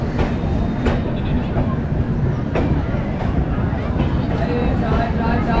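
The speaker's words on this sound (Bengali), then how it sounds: "গাড়ি আমাদের ঢুকছে খাগড়িয়া জংশন" The 19616 Kavi Guru Express pulls into Khagaria junction, with a steady loud rumble of rolling wheels, scattered rail clanks and a few squeals throughout.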